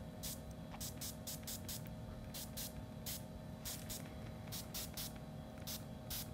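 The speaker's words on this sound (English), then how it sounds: "So I'm just going to spray my butterfly." Repeated short spritzes of Tattered Angels Glimmer Mist from a spray bottle onto a butterfly for a lampshade craft, about a dozen quick hissing bursts in uneven clusters, close and clear over a faint background hum.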